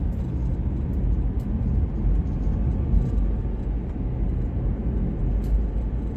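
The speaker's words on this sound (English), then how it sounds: "Now you're hearing winding, Calvin, because I think that my car is just" Steady low rumble and drone of a car engine in a high-mileage car with almost 170,000 miles that is not running well, heard from inside while driving, continuous and moderately loud with no talking.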